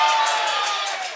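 Concert crowd at a tribute show cheering and whooping loudly, a dense wash of voices and shouts at close range, with some speech mixed in.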